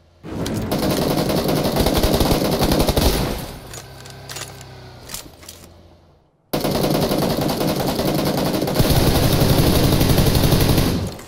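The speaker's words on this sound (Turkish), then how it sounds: "Adamlar burada. Vuruyorum." Loud, sustained machine-gun bursts from PUBG Lite in first-person mode, rapid shots running for several seconds, then quieter scattered gunfire, a brief drop to silence, and a second long, dense volley.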